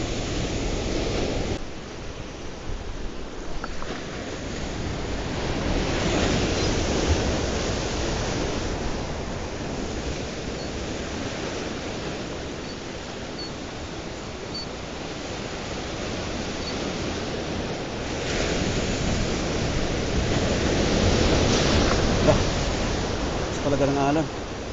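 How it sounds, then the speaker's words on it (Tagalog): Ocean waves crash against a rocky shoreline at a fishing spot, making a loud, continuous roar of surf that swells and eases in long surges. "Talaga ng alon."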